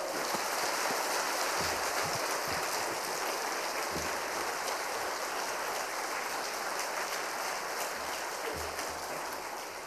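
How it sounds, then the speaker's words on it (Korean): A church congregation welcoming a guest pastor at an autumn revival service with warm, sustained applause, a dense steady roar of many hands filling the room without a break. "우리 뜨거운 박수로 환영하며 맞이하겠습니다"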